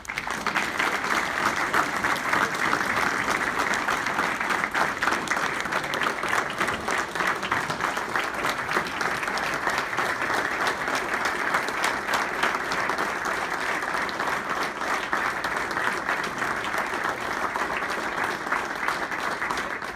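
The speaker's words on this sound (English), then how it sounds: "ladies and gentlemen, a round of applause for our first inductee, Jim McDonald" Sustained applause from the audience at the Marist College Hockey Hall of Fame induction greets the first inductee, steady dense clapping that fills the room and holds at an even level throughout.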